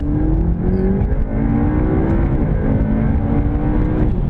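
A McLaren 720S supercar accelerates hard through the gears, its engine note loud and close, rising steadily with short dips at each upshift over a continuous roar.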